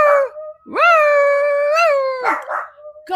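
A pet dog named Kobe gives a drawn-out, howling vocalization, a long rising then sustained tonal yowl bracketed by short yips and breathy bursts, close and loud with no talk.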